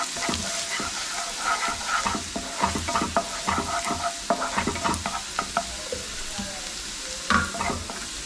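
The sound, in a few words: sautéing in a pan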